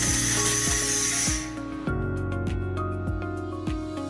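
A compact portable 4-in-1 laser welding machine in cleaning mode strips oxides and dirt from a metal surface. A steady electrical hum runs throughout, broken by sharp, regularly spaced crackling pulses at close range.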